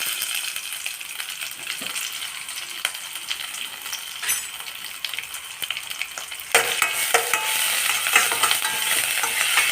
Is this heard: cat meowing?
no